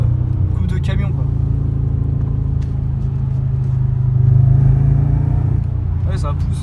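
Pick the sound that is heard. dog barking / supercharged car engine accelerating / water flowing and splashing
supercharged car engine accelerating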